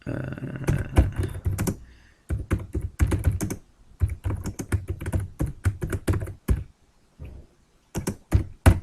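Close, crisp clatter of someone typing code on a computer keyboard, quick runs of keystrokes broken by short pauses, with no talking.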